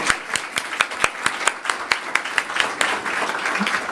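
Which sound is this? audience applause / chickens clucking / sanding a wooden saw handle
audience applause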